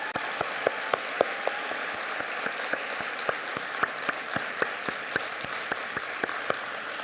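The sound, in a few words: audience applause at school assembly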